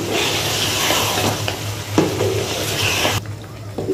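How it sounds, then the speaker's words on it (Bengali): Mango pickle with chili powder stirred in a hot pan, a steady oily sizzle with scraping spoon strokes and occasional clinks, close and continuous before the frying noise drops near the end. "এবার আমি আরেকটু নাড়িয়ে নেব।"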